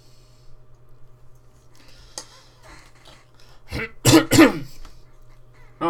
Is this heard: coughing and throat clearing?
yes